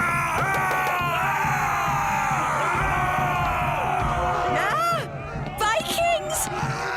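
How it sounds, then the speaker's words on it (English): Cartoon Vikings run about shouting in a loud, continuous crowd of yells and whoops over music, with a few sharper cries near the end. "Vikings! Running around and shouting."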